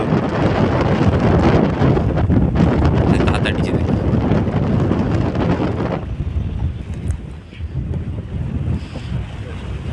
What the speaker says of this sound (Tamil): காற்று